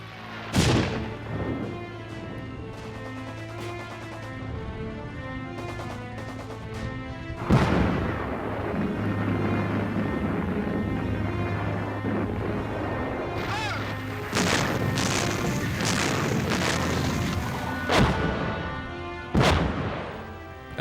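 Artillery barrage opening up ahead of a Canadian assault into the Liri Valley, heavy booms and blasts recurring at irregular intervals under a sustained music-like score, loud and close with crashing impacts.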